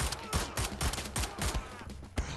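Rapid bursts of gunfire from the shooter Wolfenstein: The New Order, several loud volleys in quick succession with sharp low thumps and ringing echoes filling the short stretch.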